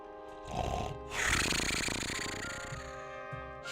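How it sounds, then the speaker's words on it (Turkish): Deep, rumbling snores rise and fall over a few seconds, a heavy, throaty rasp with a steady background hum, loud and close. "Arka planı kesin horlama sesi koy"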